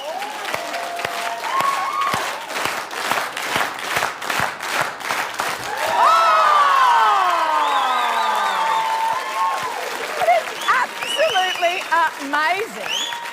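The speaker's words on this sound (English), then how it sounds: "Can get a clap going." A television studio audience claps in a fast, rhythmic beat for a gymnast, then breaks into loud cheering, whooping and excited shouts over continued clapping.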